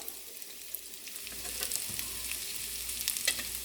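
Pieces of pork sukka are stirred and turned in a pan of hot oil, giving a soft continuous sizzle with light scraping strokes, fairly quiet and with no talking.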